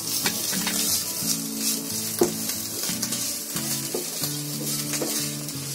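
Chopped onion, chili and cumin with ginger garlic paste fry over a low flame, making a bright continuous sizzle with occasional utensil scrapes and knocks, while a steady tonal hum runs underneath.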